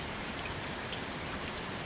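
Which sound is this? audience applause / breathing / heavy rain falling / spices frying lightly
heavy rain falling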